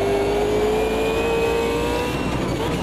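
An Audi race car engine in Automobilista 2 holds a loud, steady, high-pitched drone that climbs gently in pitch as the car runs through a corner with understeer, heard alone and close.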